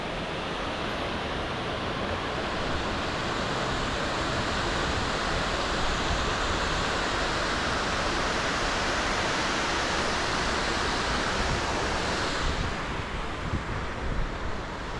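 Water rushes over a river dam, a loud, steady, close roar of broadband noise with no letup and no voices.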